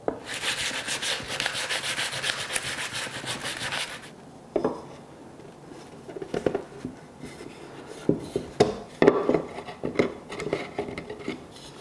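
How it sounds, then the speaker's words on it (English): Wooden parts for a candy dispenser are sanded by hand with sandpaper, first in a steady continuous rasping scrub, then in shorter intermittent rubbing strokes close by. "smooth this out as well with a little bit of sandpaper so that this can easily fit through"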